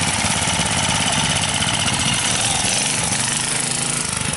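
A small mini bike engine runs at a steady, rapid putter outdoors, loud and close with a buzzing, slightly rough rhythm that holds constant throughout, without talk.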